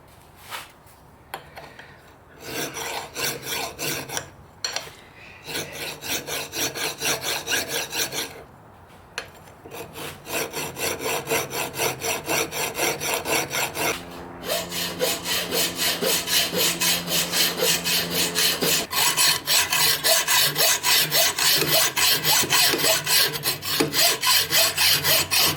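Hacksaw cutting metal freehand along the edge of a vise during an air rifle build: steady rhythmic rasping strokes, close and loud, with brief pauses before a long continuous run of sawing.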